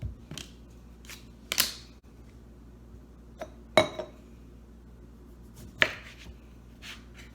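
A knife cuts a lime slice for a tequila and tart cherry juice cocktail, giving a few sharp, isolated chopping clicks against a board with quiet pauses between them, close and crisp.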